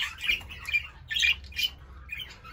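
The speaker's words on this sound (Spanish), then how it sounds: "ese machito alas negras opalino. Guapísimo el pájaro" An opaline black-winged male budgerigar in an aviary lets out several short, harsh squawks and chirps in irregular bursts, fairly faint against a low background hum.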